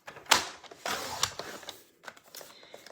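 Paper being cut to size for card making, a sharp slicing swipe followed by a few smaller scraping and rustling sounds, close and fairly quiet with no talking.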